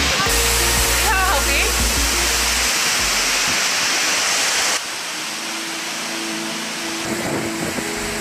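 Seljalandsfoss, a 60-metre waterfall in Iceland, a continuous hiss of falling water and spray, loud and close, dropping a little halfway through, with brief faint whistly sounds over it.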